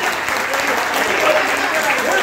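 Loud, steady applause from an audience at a D.Ed batch get-together reunion, filling the short stretch without letup, with voices mixed in underneath.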